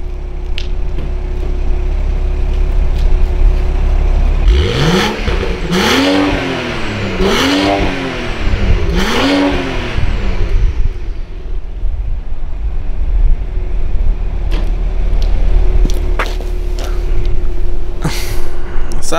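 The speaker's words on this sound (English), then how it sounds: "let me stick the camera down here while I get the rev time in while we're outside" A 2018 BMW 640i Convertible engine revs outdoors, three sharp climbing blips in quick succession followed by a steady idle, loud and close with no talking.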